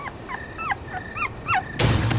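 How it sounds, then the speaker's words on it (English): Puppies whimper and yip in a rapid series of thin, rising and falling cries, fairly close, before a sudden burst of broadband noise cuts in at the end. "Nobody wants these puppies."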